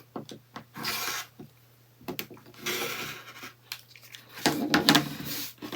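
Quilt fabric edge being trimmed along a ruler for an ombré trip block, giving several short scraping, rasping cuts with brief pauses between, close and fairly quiet over a steady low hum.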